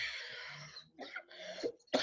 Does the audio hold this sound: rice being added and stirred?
no